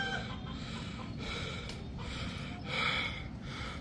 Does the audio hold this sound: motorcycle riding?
no